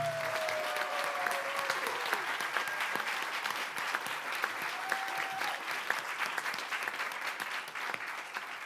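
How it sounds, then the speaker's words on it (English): A large crowd applauds steadily at a relaunch event in Dublin, with dense clapping that holds at a strong level throughout and a brief whistle early on. "raise a drink and have a round of applause for Jana"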